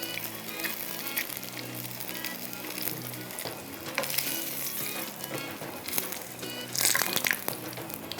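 Hara masala keema sizzles and fries steadily in a pan, a continuous close crackle with faint scraping clatter and a louder burst near the end.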